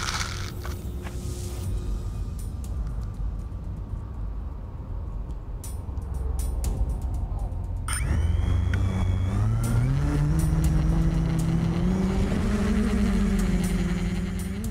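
A small model helicopter engine sputters and idles, then revs up into a rising, buzzing whine that holds high and steady.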